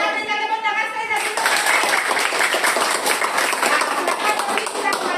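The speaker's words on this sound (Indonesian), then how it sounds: "Oke, kita berikan tepuk tangan sekali lagi." A classroom of children bursts into dense, loud applause after a teacher's short spoken prompt, and the clapping carries on steadily to the end with some voices mixed in.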